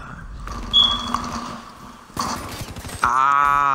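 Light machine gun fire in Call of Duty: Black Ops III, sharp bursts of shots amid game effects, with a rapid volley in the middle and a tonal game sound at the end.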